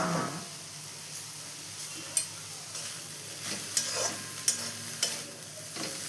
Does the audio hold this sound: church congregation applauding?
no